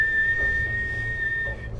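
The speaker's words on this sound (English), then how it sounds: "You hear a piercing whistle" A piercing, high, steady whistle sounds as an effect in a tabletop role-playing session, held almost unbroken for well over a second over a low rumbling background before cutting off.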